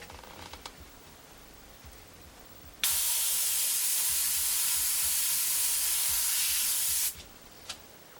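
An airbrush sprays paint in one continuous hiss lasting about four seconds, loud and close, starting and stopping abruptly, with faint clicks before and after.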